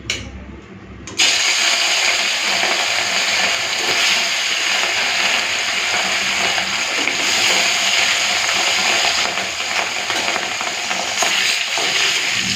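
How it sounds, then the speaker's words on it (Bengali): Fish frying in a wok of hot mustard oil, a steady loud sizzle that bursts in after a brief quiet start and crackles on without a break, with occasional stirring. "এদিকে কড়াই গরম করে সর্ষে তেল গরম করে নিয়েছি হালকা করে একটুখানি মাছগুলো ভেজে নেব"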